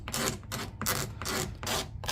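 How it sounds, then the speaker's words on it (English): Tape is scraped off the plastic housing of a cordless leaf blower with a tool, a series of rasping, rubbing strokes in a steady back-and-forth rhythm, close and moderately loud with short gaps between the passes. "we're just going to scrape all the tape away"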